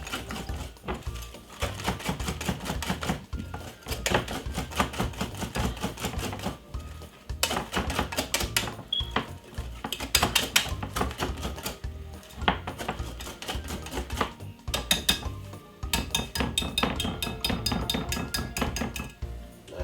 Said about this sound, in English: Best thing is to do is get a whisk and whisk it like this.